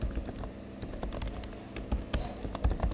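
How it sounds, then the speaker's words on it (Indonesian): Typing on a computer keyboard while editing a text file at a UNIX command line: steady, close clicking keystrokes in an irregular rhythm throughout, with no other sounds. "Di sini kita bisa ketik link tugas"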